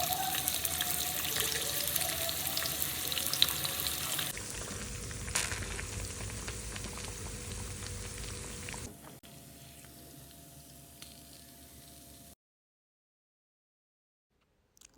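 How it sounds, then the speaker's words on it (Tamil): Oil sizzling and crackling steadily as fish fries, softening partway through before cutting to silence near the end. "ஒரு வழியாக மீனும் பொரிச்சாச்சு"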